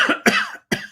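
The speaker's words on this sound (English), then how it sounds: "just a little bit of a tickly cough" A man gives a short tickly cough, three quick close bursts, at a football press conference review.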